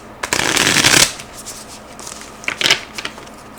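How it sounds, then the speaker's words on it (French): A deck of cards is shuffled close up, one long riffling burst followed by a few shorter flutters and taps. "On va rebrasser le paquet pour être sûr de bien remélanger ces énergies."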